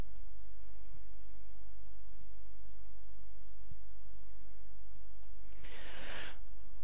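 Soft, faint mouse clicks come at an irregular pace while someone works through a Sony Vegas Pro 12 editing tutorial, with a brief breathy rush near the end and no talking.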